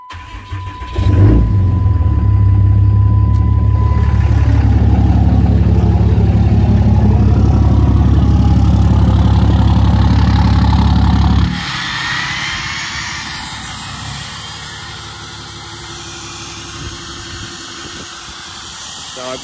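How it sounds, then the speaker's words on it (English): Deleted and tuned 6.7 diesel truck with a 5-inch exhaust on a cold start: the engine cranks and catches with a loud roar and settles into a heavy idle with the exhaust brake on, then drops to a quieter idle. "let's go ahead and do a quick cold start on it"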